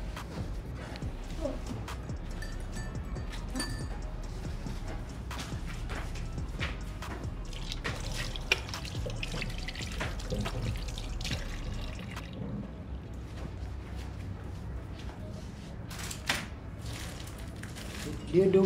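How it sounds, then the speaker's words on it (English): A tap runs steadily into a sink as hands are washed, water splashing and dripping beneath ongoing conversation between people nearby. "You can wash your hands."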